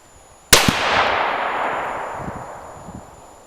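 A single close, loud crack from a .22 Creedmoor rifle firing an 85-grain Barnes bullet at a shooting range, followed by a long ringing decay that fades over several seconds; no talking.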